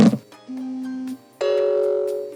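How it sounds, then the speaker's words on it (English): Wireless charging pad on a Pecron E2000LFP LiFePO4 power station chimes as a phone is set on it: a soft thump, then a short sustained tone followed by a brighter, louder second tone, clear and close with no speech. "If we hear a sound, we know it's wirelessly charging."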